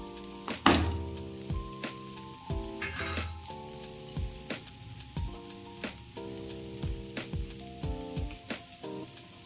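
Sabudana khichdi cooking on a low flame in a pan, with a soft sizzle broken by frequent clinks and knocks of a spoon stirring against the pan, close and busy throughout.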